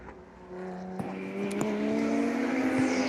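Porsche 944 race cars battle into a turn at Sebring, their engines droning together in a steady, rising note with brief sharp blips from gear changes; heard from a distance, with no voices.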